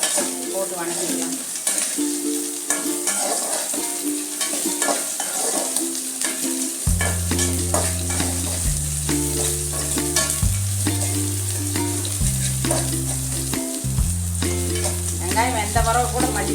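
Sliced onions frying in oil for a spicy, tangy fish curry, an even sizzle with stirring scrapes running under loud melodic background music, no speech.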